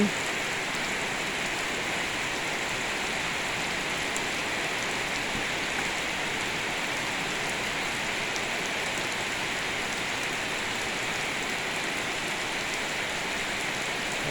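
Steady rainfall hisses evenly over surfaces, a constant dense wash of drops that stays level from start to finish with no talking.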